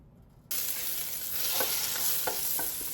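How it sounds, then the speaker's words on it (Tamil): Butter fries in a round pan, bursting into a loud steady sizzle after a brief quiet start, with a few soft stirring clicks over the hiss and no talking. "எண்ணெயில் பொறிக்கையில் பட்டரில் பொறிக்க போகிறேன்"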